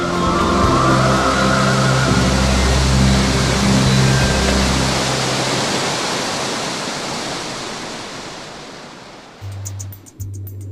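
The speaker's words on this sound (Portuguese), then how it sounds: "Uma sequência impressionante de quedas d'água" Rushing waterfalls on the Jari River in southern Amapá roar as a steady, loud wash of white water, with low tones underneath early on, before the roar fades toward the end.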